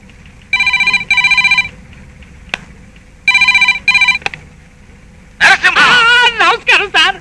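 A telephone rings in two loud bursts, each made of paired electronic trills separated by a pause, with faint clicks between them. A person then starts talking.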